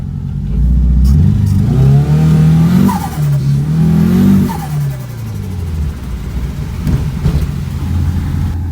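A Ford RS Turbo drives on snow in a private car park, its engine revving hard and rising in pitch, then easing off as turbo chatter flutters through the loud, close, continuous engine noise.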